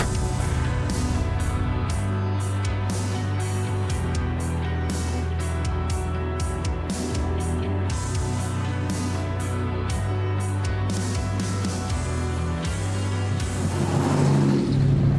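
A 1966 Chevy Nova restomod cruises down the road, its engine a steady, close rumble with rising revs and continuous road noise throughout, no talking over it.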